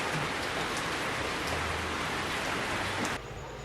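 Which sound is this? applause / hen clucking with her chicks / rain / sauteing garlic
rain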